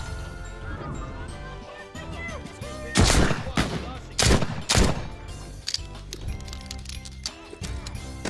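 Several loud, sharp gunshots in The Walking Dead: Saints and Sinners, a cluster of closely spaced bangs in the middle over a busy game soundscape, with a person talking in between.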